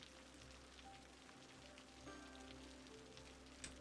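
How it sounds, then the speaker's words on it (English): Rain falls in the city-building game Cities: Skylines as a soft, continuous patter, faint and steady, with light tonal game sounds faintly in the background. "It's raining a lot today, actually."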